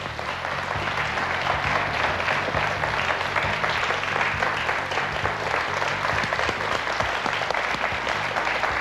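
A studio audience on a French TV quiz show gives a loud, sustained ovation with dense, steady applause and some cheering as a returning champion walks on.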